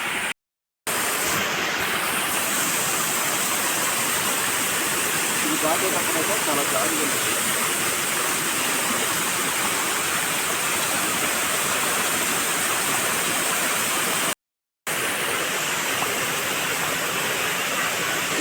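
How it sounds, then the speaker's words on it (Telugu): A waterfall roars with a steady, dense rush of falling water, loud and close, continuing unchanged apart from two brief cuts. "ఇదే వాటర్ ఫాల్"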